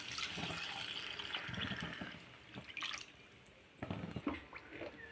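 Water saved from rinsing a stone grinding slab is poured into a cooking pot of sautéed ingredients, a soft trickling and splashing in uneven bursts, fairly quiet and close.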